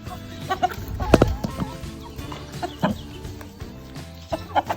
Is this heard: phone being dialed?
no